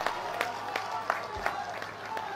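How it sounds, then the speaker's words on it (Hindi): Audience at an official event featuring Nitin Gadkari breaks into applause, a steady crowd clapping with a few sharper individual claps standing out over background murmur. "एक बार जोरदार तालियां हो जाए"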